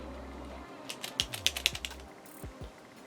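A mechanical pencil shaken to advance its lead, producing a quick burst of light, close rattling clicks in rapid succession, faint and alone against a quiet background.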